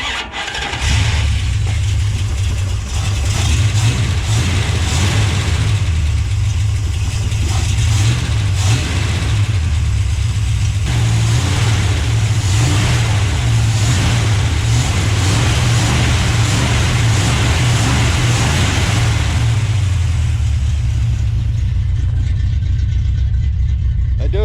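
The engine of a 1970 Plymouth Duster 340 race car starts and then runs loud and close, a rough, lumpy idle broken by repeated revs, before dropping away near the end.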